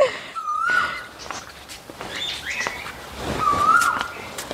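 Pigeons and budgerigars call sparsely, with a couple of thin whistled chirps at moderate distance over soft ambient background noise, on an outing in the Deoghar–Madhupur–Giridih area.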